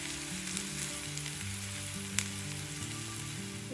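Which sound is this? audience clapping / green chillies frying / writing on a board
green chillies frying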